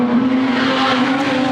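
Wingless sprint cars race on a dirt track, a loud sustained engine drone with a steady pitch filling the whole stretch, no voices heard.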